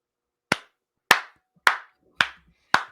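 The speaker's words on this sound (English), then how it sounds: "Golf clap for you." Five slow, deliberate golf claps from a single person, evenly spaced about half a second apart. Each is crisp and close with silence between.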